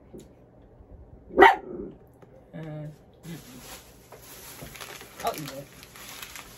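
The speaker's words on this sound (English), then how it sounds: "Sorry for his bark." A single sharp, loud dog bark rings out close by indoors, followed by quieter household rustling and faint background hiss.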